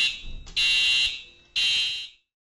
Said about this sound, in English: In the event of a fire at Fish Creek Water Reclamation Facility, the following alarm will sound.